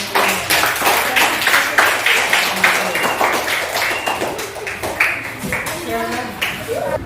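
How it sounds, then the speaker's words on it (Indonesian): Students in a primary school classroom clap for a presenting group, loud brisk clapping from several hands in uneven bursts, with children's voices chattering over it and a faint tonal ping near the end. "Kita berikan tepuk tangan untuk kelompok 5."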